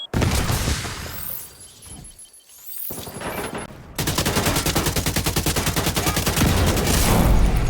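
Gunfire in The Division 2 with an assault rifle: a jumble of shots and impacts gives way to a long, rapid, evenly spaced burst of automatic fire, loud and close.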